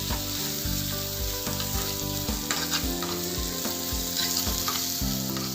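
Masala sizzles and fries steadily in a pan for a dhaba-style paneer masala, loud and continuous, with a faint stirring clatter on top and no talk.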